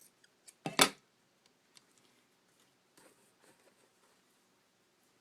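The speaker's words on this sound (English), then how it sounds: "Take the end and cut a slit." Scissors make one sharp snip while cutting a slit in the end of a fabric strip for a rag ball garland. Quiet ticks and rustles follow in a near-silent room.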